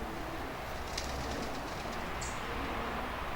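A pigeon gives soft cooing notes, faint beneath a steady wash of background noise, with a few brief higher chirps.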